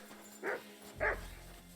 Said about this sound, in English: He's barking on something.